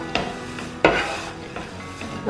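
Rice flakes roast in a pan over a medium flame, giving a soft continuous sizzle broken by a few sharp scrapes and knocks as they are stirred, close and fairly quiet.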